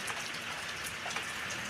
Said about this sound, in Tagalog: Ang aga po ng ulan.